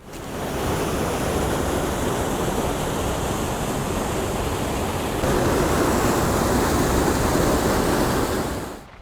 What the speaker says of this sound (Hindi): पानी का इतना ज़्यादा बहाव